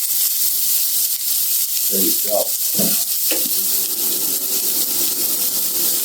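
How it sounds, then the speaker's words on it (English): Steady, loud sizzling of onions frying in a hot pan continues throughout, with a man's brief remark and a few clinks partway through. "let's get these onions into the pan. Look at that. I love that sound. Nice sizzle right there."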